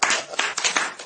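An audience claps at a French-language church service, a crisp, busy patter of many hands with small surges in loudness, close and alone without talk.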